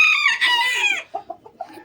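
A pet rooster, fed on roti and wheat, crows loudly and close by, then gives a few short clucks as the call trails off.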